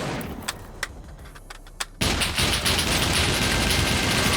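Rapid gunfire from an M82A1 rifle in the video game SCUM, a few scattered sharp shots followed by a dense, loud, continuous barrage of overlapping rounds with no talking.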